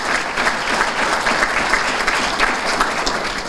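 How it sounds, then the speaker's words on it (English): A room full of people clapping for committee members at a school district athletic Hall of Fame event, steady and fairly loud, a continuous even patter throughout. "Let's have a round of applause for all those committee members."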